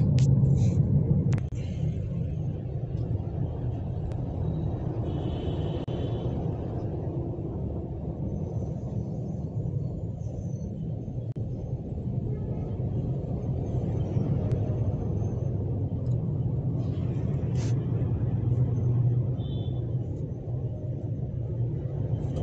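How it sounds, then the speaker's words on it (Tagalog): Heavy road traffic between Alabang and Bicutan, a steady low rumble of engines heard close by and continuously, with occasional higher hiss and faint horn-like tones. "Ayan guys, oh, grabe ng traffic."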